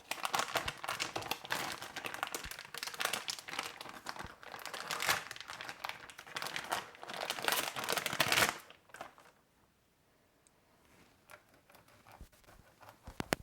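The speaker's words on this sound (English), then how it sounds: "It's very easy to cut actually. And then cut again." Dried rice noodles for Pad Thai being cut give dense, crisp crunching and crinkling that runs steadily for about eight seconds, then drops to near quiet with a few faint clicks.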